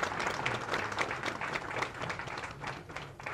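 A hall audience at a film director's memorial celebration applauds the cultural committee, a steady patter of many hands clapping throughout, fairly faint and distant, with no speech over it.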